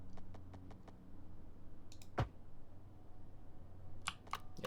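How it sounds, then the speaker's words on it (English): Game interface clicks from Cities: Skylines as a rotation control is set to 180 degrees: a run of soft, evenly spaced ticks, then a sharper click and a few more faint clicks over low background hum. "That clicking sound you can hear is telling me it's set to 180 degrees."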